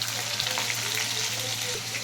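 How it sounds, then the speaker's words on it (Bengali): Potato pieces frying in oil in a pan with cumin seeds, bay leaf and dried chilli, a steady close sizzle throughout with no talking. "আলুটা ভাজা হয়ে গেছে, তুলে নিচ্ছি"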